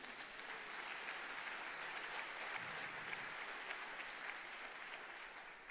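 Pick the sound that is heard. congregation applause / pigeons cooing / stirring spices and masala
congregation applause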